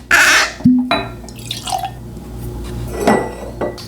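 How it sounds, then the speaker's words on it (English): A cork is pulled from a bottle of Green Spot Irish whiskey, giving one sharp pop with a brief squeak, followed by light glassy clinks and handling noises close by. "So let's pop the cork and give it a try."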